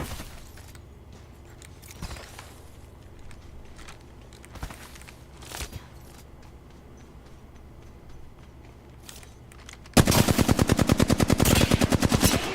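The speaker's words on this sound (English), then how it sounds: "Getting shot at." Gunfire in the game Apex Legends: a few scattered single shots and impacts over quiet game ambience, then a loud, rapid automatic burst for the final two and a half seconds.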